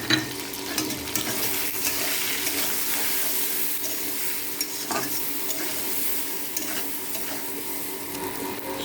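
Eggplant frying in a pan with tomato, green chilli, salt, turmeric and chilli powder, a steady close sizzle with continuous stirring and spatula scraping throughout, no talk.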